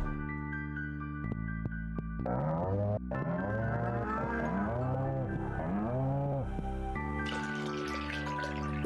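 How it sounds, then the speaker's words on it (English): Cows in the farming game Stardew Valley give about five drawn-out, arching moos in steady succession over soft background game music, with no talking. "Checking on the cows."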